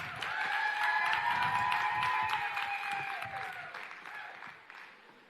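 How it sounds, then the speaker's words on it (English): Applause from an audience, a steady round of clapping that holds strong and then gradually thins out toward the end. "with your best clap and round of applause, Jackie."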